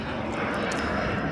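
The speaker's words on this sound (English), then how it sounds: "There's a plane taking off." An airplane takes off near an airport, a steady, loud, broad roar that stays constant throughout, heard from a beach.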